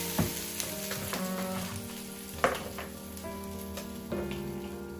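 Dosa batter sizzling on a hot pan, a steady close frying hiss with a few soft scraping and tapping sounds from a utensil.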